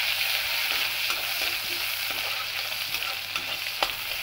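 Onion and chili sizzle and fry in a pan, a bright steady hiss with occasional soft stirring scrapes, close and continuous with no talking.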